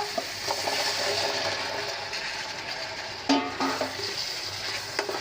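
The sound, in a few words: taro pieces stir-fried in spice paste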